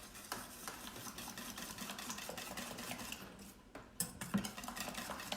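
Eggs and grated parmesan are stirred in a bowl for a frittata, a utensil clinking and scraping against the sides in quick repeated strokes, soft and close, with no talk.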